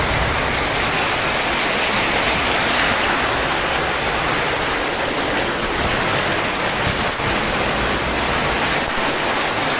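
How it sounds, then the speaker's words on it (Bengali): Heavy rain pours down steadily in a dense, continuous roar of drops on surfaces, loud and unbroken throughout with no voices. "আজকে মুষলধারে বৃষ্টি হচ্ছে"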